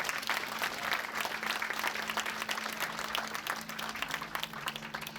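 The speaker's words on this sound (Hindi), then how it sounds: "एक बार इनके लिए हम जोरदार ताली बजाएं।" Audience applauding loudly at a Hindi spiritual gathering with a guru, a dense sustained wash of clapping filling the whole stretch without a break.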